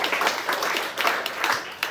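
Comedy game show audience at a New York venue clapping for contestant Justin: brisk, fairly close applause from a modest crowd, steady for two seconds with no talking over it.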